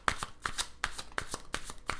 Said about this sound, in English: Just shuffle it a few times.